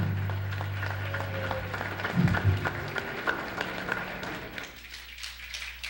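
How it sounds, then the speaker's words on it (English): Audience at a live broadcast event clapping for the First Lady, a fairly faint spread of claps rising and thinning out over several seconds. "How about a nice round of applause for Mrs. Susana Lutali."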